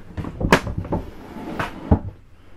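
A few wooden knocks and clunks of a deep drawer being slid and shut nearby in a 2017 Forest River Salem 28CKDS travel trailer, with a soft scrape between the thuds.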